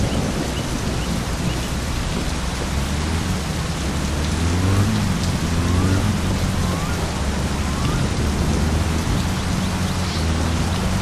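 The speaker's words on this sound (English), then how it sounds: "Drive through this crazy rain." Heavy rain drums steadily on a car in the video game My Summer Car while driving, a dense, continuous wash of noise with a low engine rumble beneath and no talking.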